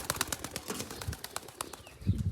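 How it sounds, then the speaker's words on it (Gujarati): Pigeons taking off outdoors, a quick flurry of flapping wingbeats in soft rapid bursts, fairly faint and close, with light background noise. "ત્રણ કબૂતર જે આમ ઉડે છે હમણાં એ બધા ઉડવા"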